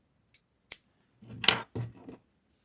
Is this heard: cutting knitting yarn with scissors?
yes